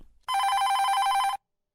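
A telephone rings in one continuous electronic trill lasting about a second, loud and close, with silence before and after.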